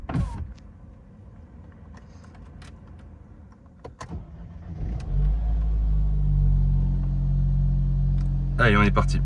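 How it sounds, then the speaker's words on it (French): A 2013 BMW 118i F21 M Sport starts up and settles into a steady low rumble of warming idle, preceded by faint clicks and handling noises, with a brief burst of other sound at the end. "On va faire chauffer ma voiture."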